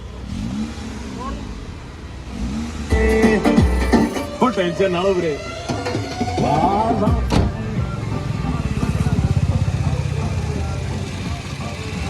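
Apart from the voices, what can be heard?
Toyota car engine running with broken engine mounting noise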